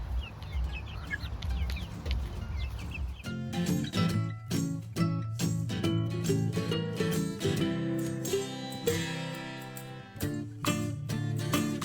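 Chickens on a small farm cluck in quick repeated bursts at close range, a steady busy rhythm of short calls after a few seconds of softer outdoor noise, with no talk.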